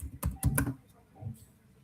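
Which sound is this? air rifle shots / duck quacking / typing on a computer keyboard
typing on a computer keyboard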